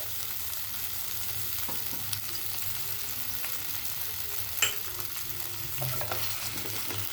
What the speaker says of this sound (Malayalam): നമ്മളെല്ലാം കൂടെ ഒന്നിച്ചിട്ടാണ് വഴറ്റുന്നത്.